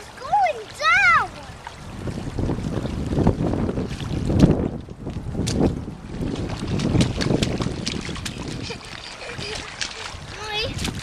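Gusty wind on a rainy, stormy day buffets the microphone in rough surges, with water splashing nearby, while a child and an adult talk over it.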